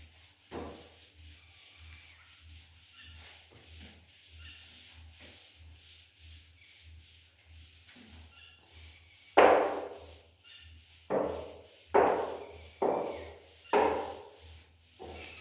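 A duster rubs writing off a board, first as soft faint strokes, then about six louder, rhythmic scrubbing swipes close by toward the end.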